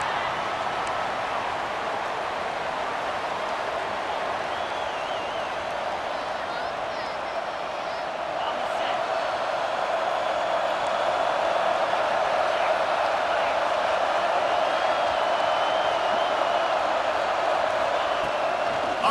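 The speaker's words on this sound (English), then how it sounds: "The roar of the crowd trying to fuel this defense to keep them pinned in their own end." Stadium crowd roaring steadily throughout a college football game in EA Sports College Football 26, a loud, constant wash of crowd noise with no clear breaks and a slight swell toward the end.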